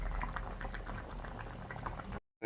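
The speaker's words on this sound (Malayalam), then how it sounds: "തിളച്ചുകൊണ്ടിരിക്കുകയാണ്" Mackerel curry boiling in a pot, a close, continuous bubbling and popping that cuts off abruptly near the end.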